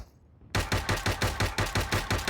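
Rapid automatic gunfire in a video game starts after a half-second of near silence, a steady run of about eight sharp, loud shots at an even rhythm with no talk.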